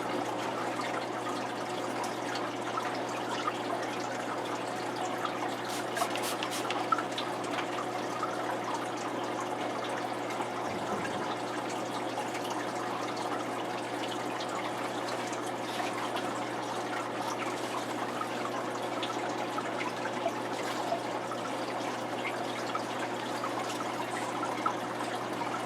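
Water running steadily into or out of a 55 gallon T-bar aquarium during a water change, a quiet continuous trickling hiss that holds even and unbroken.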